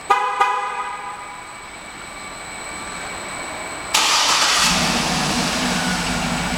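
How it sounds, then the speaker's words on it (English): A 2007 Cadillac Escalade ESV AWD is remote-started: a couple of short toots sound first, then a few seconds later the engine cranks and catches, settling into a steady, fairly loud idle with no talking. "once you get the car started"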